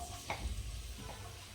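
A brief stir and soft sizzle as chopped dates are dropped into hot ghee, with a quick scrape of a spoon, close and quiet.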